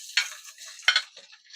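Sliced pork loin goes into a pan of browned onions and sizzles softly, with two sharp bursts of spitting and stirring followed by quieter crackling, close by and fairly faint overall.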